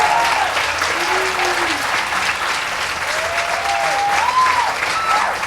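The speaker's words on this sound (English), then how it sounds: "You can clap." A live audience at a talk event claps steadily to welcome a comedy series co-creator and star, with a few thin whistles or cheers rising over the continuous applause.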